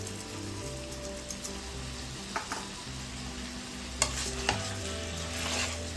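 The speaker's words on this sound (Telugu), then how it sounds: "సాల్ట్ కూడా యాడ్ చేసి మంచిగా మిక్స్ చేసుకోవాలి." Chicken curry being mixed with salt in a pan makes a quiet, steady simmering sizzle with scattered spoon scrapes and taps over a low background hum.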